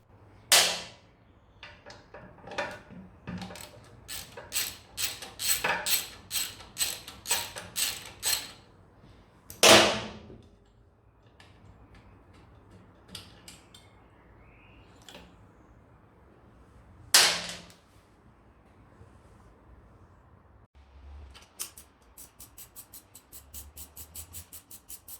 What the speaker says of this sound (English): Now remove the 2 bolts securing the EGR valve with a 10mm socket or a spanner.